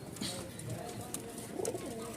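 Domestic fancy pigeons cooing in a loft: soft, low, rolling coos repeating over faint background noise, with a brief burst of calls near the end.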